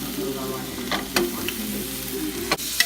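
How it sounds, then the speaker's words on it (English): Steaks sizzling in a pot, a steady close hiss of frying with a few sharp clicks and clanks of utensils against the metal. "I'm going to put those steaks on the pot."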